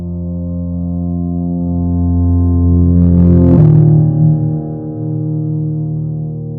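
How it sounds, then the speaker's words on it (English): Reverse reverb swells up slowly beneath sustained tones in a music production, climbing to a smeared, whooshing peak that cuts off abruptly, then settling back into the steady held notes. "I also wanted to try out this reverse reverb technique that I learned about recently."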